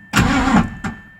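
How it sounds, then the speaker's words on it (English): A V8-swapped Mazda RX-7 engine cranks over in a loud mechanical burst lasting about half a second, followed after a brief pause by a second short crank, close to the listener. "We should have some power to crank this engine over."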